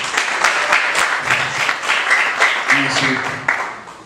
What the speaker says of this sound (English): Clap it up for her again.